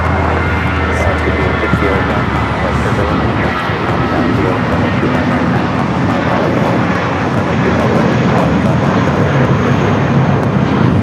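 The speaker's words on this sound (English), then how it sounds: "This is United 469 taking off to San Francisco on the A320" United Airlines Airbus A320 jet taking off from LAX, a loud steady engine roar filling the whole stretch, with people talking faintly beneath it.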